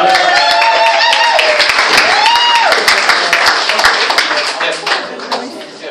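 At Simon's Elvis bar in Malta, a crowd claps to welcome a singer, the applause running under prominent talking and thinning out toward the end.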